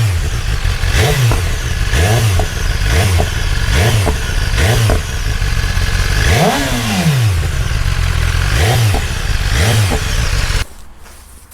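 BMW S1000RR sport motorcycle on its stock exhaust, revved repeatedly: about seven sharp throttle blips rising and falling in a steady rhythm, with one longer, higher rev in the middle, loud and close over the idle, before the engine cuts off near the end.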